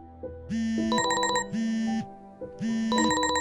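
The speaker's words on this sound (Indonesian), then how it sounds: "Tiba-tiba alarm di HP Naufal berbunyi" A phone alarm rings in a repeating electronic melody, three bright bursts in a steady pattern, loud and close.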